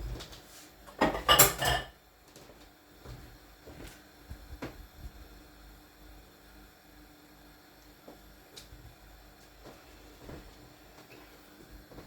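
Dishes and pans clatter into a kitchen sink in a quick loud burst of clanks, then sparse scattered knocks and clinks at a moderate distance, with no talking.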